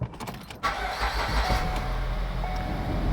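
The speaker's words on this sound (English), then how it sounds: "We're gonna start the engine and see how smooth it is." A Ford Escape engine starting after a motor mount replacement: a brief starter crank, then the engine catches at about half a second and settles into a steady, fairly quiet idle.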